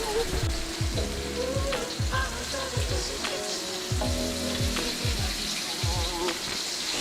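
Miso glazed salmon frying in a metal pan, steady sizzle with repeated sharp clinks and scrapes of a metal spatula against the pan, close and fairly loud throughout.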